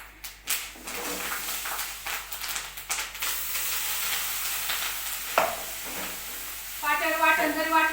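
Chili powder, curry leaves and spice masala hitting hot oil in a pan, a steady bright sizzle and hiss with a few stirring scrapes and taps, close and loud, with a sharper crackle near the end.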